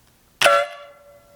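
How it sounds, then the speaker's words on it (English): One sharp, loud Harbor Freight air horn blast starts abruptly, then its harsh tone fades into a lingering ringing note over about a second. "This is the Harbor Freight air horn."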